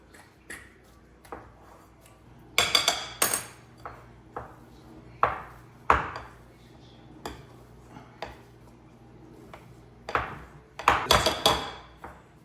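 A fork mashing potatoes clinks and scrapes against a bowl in scattered, irregular taps, with a few louder bursts of clattering in between quieter moments.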